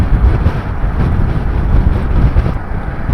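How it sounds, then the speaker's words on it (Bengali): Hot summer wind buffets the microphone beside a highway between Delhi and Ludhiana, a steady low roaring rush that swells and eases without a break for about three seconds, with no voices. "হাওয়া চলছে, সে হাওয়াটাও লু যেন চলছে।"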